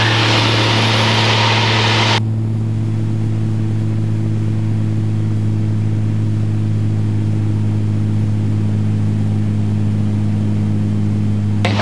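Light airplane engine droning steadily during a stall buffet in flight training, a loud continuous low hum with broadband cockpit noise that drops away sharply after two seconds, leaving the engine tone alone.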